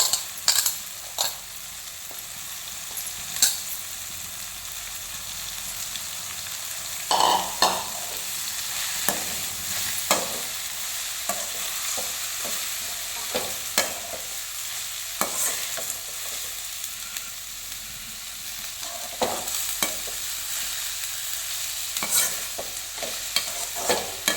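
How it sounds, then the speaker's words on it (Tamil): Goat blood fry with chopped cabbage stirred in a hot pan: a sizzle runs throughout, broken by regular scraping strokes of a ladle, close and alone. "கோஸு கட் பண்ணி வச்சுருக்கேன், அதையும் அது கூட போட்டு கிளறிக்கலாம்"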